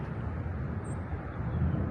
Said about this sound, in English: You can hear a plane taking off directly behind me in the distance.